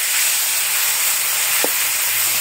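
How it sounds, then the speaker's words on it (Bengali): Brinjal slices frying in a pan, a steady, loud hiss of sizzling oil filling the whole moment with one brief clink partway through. "এই যে এখানে আমি বেগুনটা ভেজে আগে প্রথমে বেগুনটা ভাজি করলাম"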